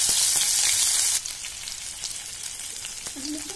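Chopped green chilli, ginger and garlic crackle and sizzle in hot oil with cumin for fried rice, a loud close hiss that drops to a softer steady fry after a second, with a brief stir near the end.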